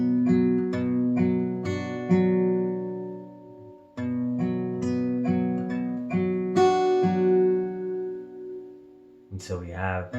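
A guitar plays a fingerpicked pattern in G with a barred chord, plucked notes ringing in a steady rolling figure, played twice with a short gap between, alone and fairly close.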